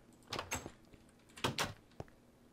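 A Minecraft villager's wooden door opens and closes twice in quick succession, each a short sharp knock-like clack, fairly close with a faint tap after.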